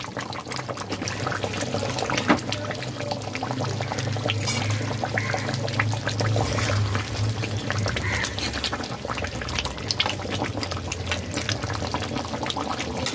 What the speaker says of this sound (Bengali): ঘি দিয়ে দেব দু টেবিল চামচ